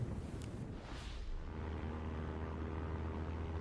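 Propeller engines of aircraft in the Aircraft Carrier Survival video game, a brief rushing swell of planes passing, then a steady low droning hum that continues at moderate level with no talk.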